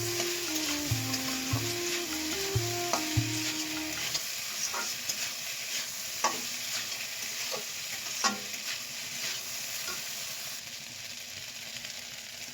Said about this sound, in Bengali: আর অনেকক্ষণ ধরে এটাকে কড়া কড়া করে ভাজবো।